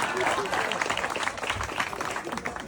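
Audience at a community foundation event clapping and cheering, a busy, choppy burst of applause with voices mixed in, fairly close and lively throughout.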